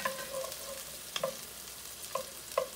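Spaghetti meat sauce being stirred in a pan, a soft low sizzle with a few light scraping spoon clicks, close but quiet, no voices.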